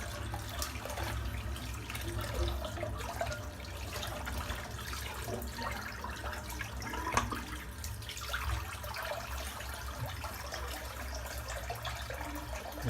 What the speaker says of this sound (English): I'm just going to empty the sink out.